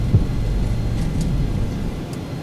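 Steady low engine rumble of an airliner accelerating down the runway on its takeoff roll in the flight simulator X-Plane 11, a continuous loud drone with no voices.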